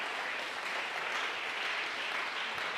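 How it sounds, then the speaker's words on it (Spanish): Church congregation applauding during a worship service, a dense steady wash of clapping at moderate distance with no talk over it. "Dele otro aplauso al Señor"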